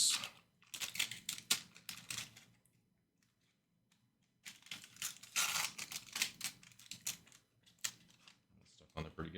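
A 1988 Topps baseball card wax pack wrapper is torn open by hand, with bursts of crinkling and tearing paper close up, a quiet pause in the middle, then more rustling and ripping.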